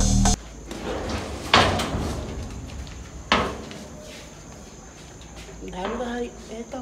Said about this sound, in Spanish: Cierra la puerta, por favor.